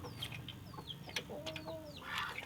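Country chickens in a coop cluck and squawk in short, scattered calls, with a few higher chirps. The birds are close but fairly quiet.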